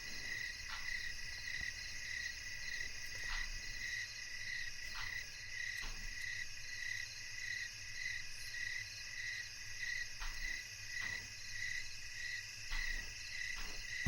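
Continuous high chirping of crickets, steady and pulsing, with a soft low hum beneath and no voices.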